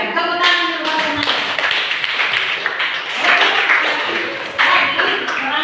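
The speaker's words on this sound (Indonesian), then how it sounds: "Tepuk tangan dulu, Nak." Schoolchildren in a classroom clap their hands together, loud and near, in sharp bursts mixed with voices and cheering throughout.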